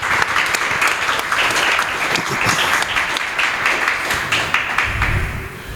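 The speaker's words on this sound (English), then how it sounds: "So I wanted to give the coaches a round of applause again" Applause for the coaches at a primary school football awards event, a sustained crowd clapping at steady loudness that fades slightly at the end.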